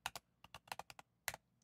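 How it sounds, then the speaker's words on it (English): Quick keystrokes on a computer keyboard, about a dozen close crisp clicks in uneven bursts with a short pause before a final few taps. "So if I start typing out topic"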